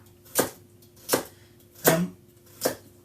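Knife chopping a carrot on a board for a Dublin coddle stew, four sharp, evenly spaced cuts about three-quarters of a second apart, close and clear over a quiet kitchen hum.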